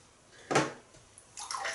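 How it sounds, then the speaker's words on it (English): A Cadman L7 26mm silver tip shaving brush, shaken to shed water before lathering in a bowl, gives a short wet flick and splatter burst, followed by a softer rustle of droplets, close and fairly quiet. "just give it a little shake to get the right amount of water"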